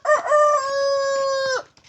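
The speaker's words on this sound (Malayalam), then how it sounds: "ഇത് കോഴി." A rooster crows once, close and loud, a long sustained cock-a-doodle-doo in a home kitchen garden, with faint clucking at the start and end.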